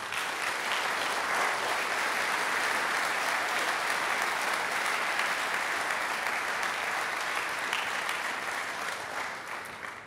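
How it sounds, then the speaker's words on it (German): A crowd at a fair opening applauds steadily and loudly for the full stretch, dense clapping with no voices on top, fading slightly at the end. "einen grossen Applaus!"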